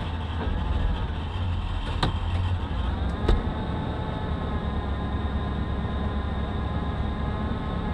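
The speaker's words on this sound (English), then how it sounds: "Got a little bit of a misfire" An old cheap truck that had sat unused for years idles with a slight misfire. A steady low engine rumble and hum is heard up close, with a couple of faint clicks and no talk.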